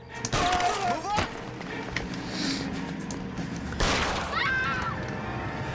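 Gunfire in the detective video game L.A. Noire: a couple of sharp, loud shots ring out close by amid game sound, with people talking over them.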